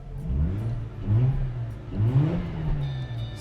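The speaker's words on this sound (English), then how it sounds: "We have the success. Car running very smoothly." A Mazda RX8 rotary engine, just brought back from a flooded state, runs smoothly and close by with a steady mid-low hum and gentle rises in pitch like light revving, still smoking slightly.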